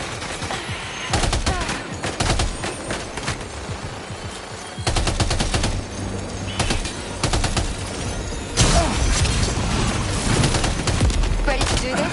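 Rapid bursts of game gunfire from Death Stranding 2 crackle in sustained volleys with brief pauses, loud and close, over a constant bed of background game sound.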